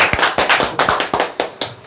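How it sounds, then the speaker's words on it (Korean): Scattered clapping from a small audience at an insurance telemarketing sales lecture, sharp separate claps with gaps between them, fairly close and loud. "박수 한번 주세요."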